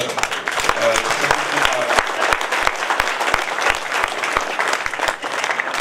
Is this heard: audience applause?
yes